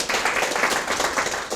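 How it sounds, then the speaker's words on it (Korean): A church lecture audience claps to welcome a civilian pastor who ministers to the military, a brief burst of loud, close applause with uneven pulses and no talk over it. "우리 박수로 맞이해 주시기 바랍니다."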